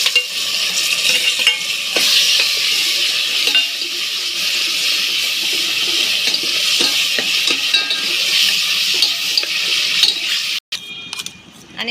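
Ridge gourd bharit is stirred into fried peanuts in a hot pan, with a loud, close, continuous sizzle and spatula scrapes against the pan.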